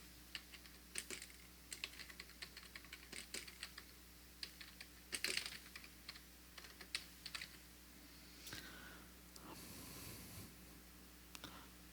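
Quiet, irregular keystrokes tap on a computer keyboard in bursts of clicks, near and faint, with brief pauses between runs and no talking.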